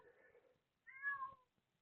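Cat meowing indoors, one soft, drawn-out call followed after a pause by a clearer, rising meow, both faint and close, with no speech.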